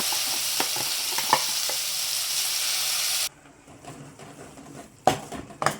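Ground moringa leaf paste stirred into hot oil with turmeric in a pan gives a loud, continuous sizzle with spoon scrapes for about three seconds. It then drops to a quieter simmer broken by a few sharp stirring clatters.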